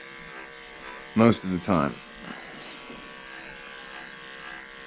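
Corded electric clippers buzz steadily while a doodle dog is groomed, a constant low electric hum, briefly covered by a short spoken phrase.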